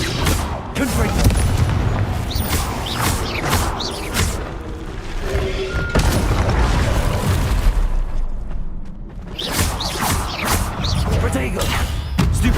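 Confringo blasting spells exploding during a duel in Hogwarts Legacy, repeated booming blasts and whooshes over a loud, busy combat din, with a voice talking over them.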